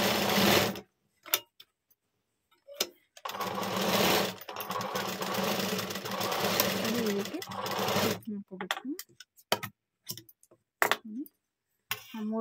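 Sewing machine stitching the square neckline of a blouse in a few loud close runs, then stopping, followed by clinks and handling noises and a voice talking in between.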